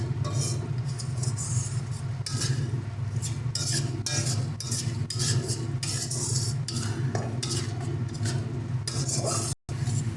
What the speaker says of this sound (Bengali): এবার এর মধ্যে আমরা দিয়ে দিচ্ছি একটু হলুদ গুঁড়ো, একটু জিরে গুঁড়ো, ভালো করে মিশিয়ে নেবো সবকটাকে।